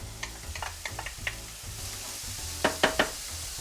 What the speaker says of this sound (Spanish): echamos el resto de la cebolla para la carne molida